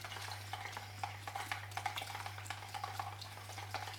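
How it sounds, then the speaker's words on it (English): Diesel fuel being stirred with a bleaching chemical: a steady scraping, swishing stir with small clinks, repeating at a close, even pace over a constant low electrical hum. "Once again, it needs to be mixed for half an hour at least"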